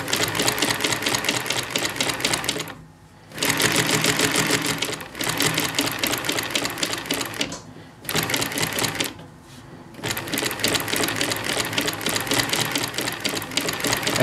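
A Merrow 18-E crochet stitch industrial sewing machine runs loud and close in a steady high-speed whir, stopping briefly three times before starting up again.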